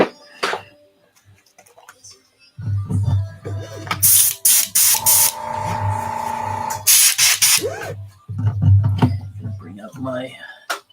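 An airbrush lays a green paint coat in short hissing bursts and one longer steady spray, close up, broken by soft clinks and with a person talking in between.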